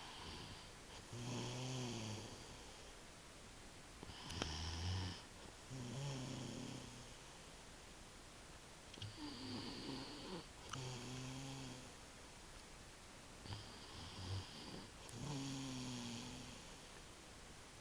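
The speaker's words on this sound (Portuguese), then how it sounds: "Eu que vou ter que suportar o ronco a noite toda." A sleeping person snores in a steady rhythm of long, rasping, nasal breaths, about five cycles with pauses between them, close and loud over a constant hiss of background noise.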